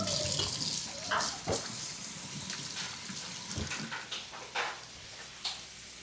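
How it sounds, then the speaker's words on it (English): Running tap water splashing over hands at a kitchen sink during meal prep, a steady broadband wash with a few brief louder splashes and clatters, close and moderately quiet. "I'm gonna wash my hands before I touch my eyes and I get burnt."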